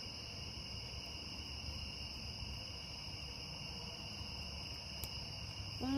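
Constant high-pitched cricket chirping fills the night air by a fire around 11 pm, a dense steady trill with low background rumble and no voices.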